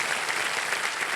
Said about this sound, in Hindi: एक बार जोरदार तालियां बज जाएं कृष्णा जी के लिए और सुनील जी के लिए